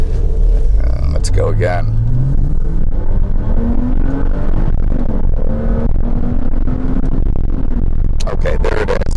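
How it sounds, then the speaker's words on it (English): Engine and induction roar of a 2006 Porsche Cayman S during a test drive, loud and continuous with rising revs and shifts, heard from inside the cabin while someone talks over it. "It's all induction noise, all beautiful, you know, mechanical symphony"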